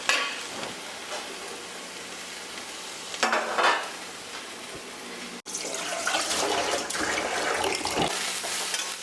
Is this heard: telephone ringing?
no